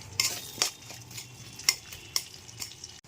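Two large onions frying in oil in a kadai for a spicy bhetki fish dish: a low sizzle broken by about six sharp clanks and scrapes of a spatula against the pan at irregular intervals.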